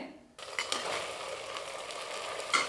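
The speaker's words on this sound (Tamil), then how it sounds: "தக்காளி ஓரளவுக்கு நல்லா வதங்கட்டும்" Tomatoes sautéing in a pressure cooker for Ambur chicken biryani start with a sudden soft sizzle after a quiet moment, then a steady gentle hiss with a few light stirring scrapes and a utensil clink at the end.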